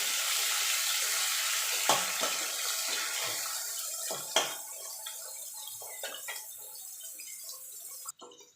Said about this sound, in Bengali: পেঁয়াজটা ভালো করে লাল লাল করে ভেজে নেবো